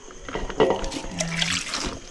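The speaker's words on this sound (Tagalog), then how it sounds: "Babad ulit sa tubig. Lagyan na ng tubig." Water is poured into a cooking pot to soak the food, making a brief splashing gurgle and trickle. It is close and moderately loud, with a faint voice heard under it.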